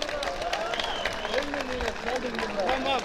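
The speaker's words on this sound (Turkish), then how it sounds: "Alkışlar Aşık Gül abiye gelsin diyorum." Crowd applause at an outdoor village festival, a steady patter of clapping under a prominent melodic line of music or singing that runs throughout.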